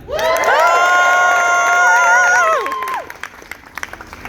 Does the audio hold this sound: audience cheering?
yes